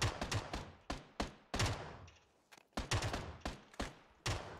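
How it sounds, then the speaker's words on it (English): Decoy grenades in the PUBG video game fake a burst of gunfire: a dozen or so sharp, loud cracks in irregular clusters over a few seconds, with no voices. "Yeah, I think those are decoy nades."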